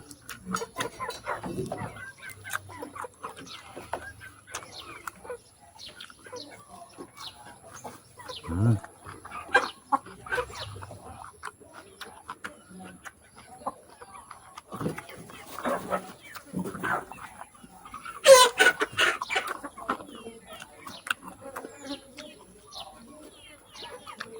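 Chickens cluck and a rooster calls in scattered bursts around a farmyard, moderately close, with occasional voices mixed in among the bird calls.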